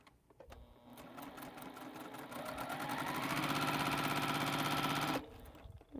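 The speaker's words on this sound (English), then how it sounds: "And then we sew the extra line." A sewing machine stitches a quilt seam, starting with slow separate needle strokes that speed up into a loud, steady mechanical whir, then stops abruptly near the end.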